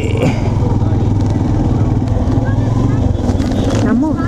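A motorcycle engine runs steadily and loudly close by on a rural ride, its low throbbing drone continuous throughout while a person speaks over it.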